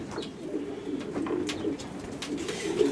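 Soft, repeated coos of racing pigeons murmur steadily in a breeding loft over a low background hum, with a few faint scrapes and flutters nearby.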